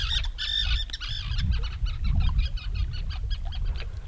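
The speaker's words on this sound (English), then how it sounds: "There's a few birds having a fight over there." Several birds squabbling near a lakeside camp, giving repeated goose-like honks and squawks in quick bursts, fairly loud and close over low rumbling background noise.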